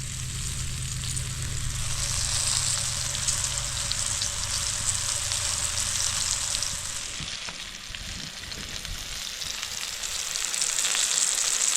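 Catfish frying in hot oil on an outdoor camp setup, a steady dense sizzle and crackle holding at even loudness throughout with no talking.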